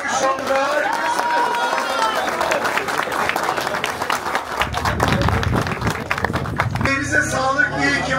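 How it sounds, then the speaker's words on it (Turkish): Spectators at a PETLAS Türkiye Offroad Championship event in Bulancak break into sustained applause, dense clapping with a steady roar. Someone talks over it through a loudspeaker. "Büyük alkış onlara"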